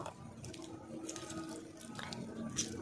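Lemon juice is poured into watermelon juice in a continuous, soft liquid trickle with faint splashing, heard close against low background noise.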